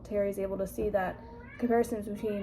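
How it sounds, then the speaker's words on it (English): A pet cat meows close by, its drawn-out cries overlapping a person who keeps talking throughout. "sorry, that's my cat"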